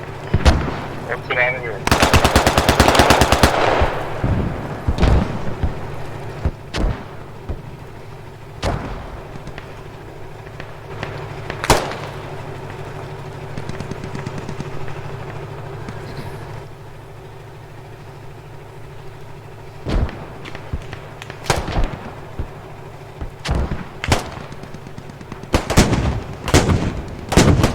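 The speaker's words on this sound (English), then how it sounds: "Yep, mortars." Gunfire in a video game features a heavy burst of machine-gun fire early on, then scattered loud shots and booms, including mortar fire, over a low rumbling engine hum, with a voice speaking briefly.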